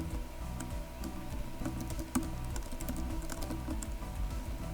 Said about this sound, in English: it might be better for us to just type it up from scratch. So let's type in